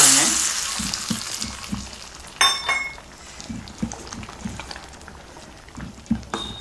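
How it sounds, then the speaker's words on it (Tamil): Mustard seeds, urad dal and dried red chillies tempered in hot oil and poured into murungai keerai (drumstick leaf) sambar give a close, steady crackling sizzle with scattered pops and a louder burst midway. "கடுகு தாளிச்சு இதில் போட்டுக்கலாங்க"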